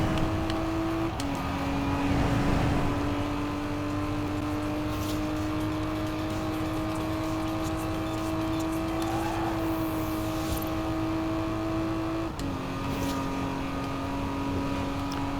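A race-tuned 1960 Aston Martin DB4 GT Zagato sports car engine hums steadily at a constant pitch, with a brief gear shift midway, sustained and fairly close throughout.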